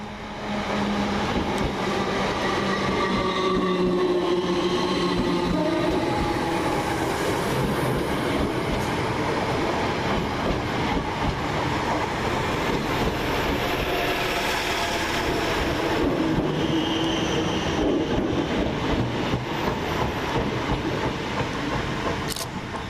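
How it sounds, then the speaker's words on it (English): Two coupled Class 321 electric multiple units run through Gidea Park station, with sustained rumble and clatter of wheels over rail joints and some whine, continuous and fairly close with no voices. "next through is 321307 and 321312, working 2K12 from London Liverpool Street to Southend Victoria"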